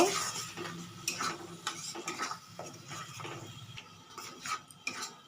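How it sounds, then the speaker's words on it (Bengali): Ground tomato, made from two medium tomatoes, is stirred into a frying spice mixture for paneer and mung dal kofta. A spoon makes quiet, uneven scraping strokes against the pan over a faint sizzle. "দিয়ে মশলার সঙ্গে ভালো করে মিশিয়ে নেব।"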